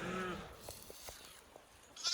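A flock of sheep resting under trees, with a brief, faint bleat at the start, soft shuffling, and another faint call rising at the end.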